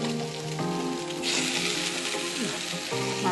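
Batter-dipped bread slices fry in coconut oil in a pan, giving a steady, moderate sizzle that swells midway, heard under a tonal musical background.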